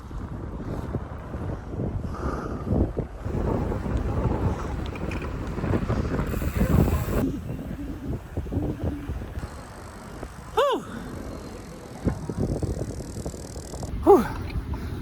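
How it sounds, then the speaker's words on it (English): Bike ride along Route 66 on a chilly 37-degree day, with heavy gusting wind buffeting the microphone and a rumbling ride noise underneath, plus a couple of sharp squeaks and knocks. "I wanted to say I rode a bike on Route 66."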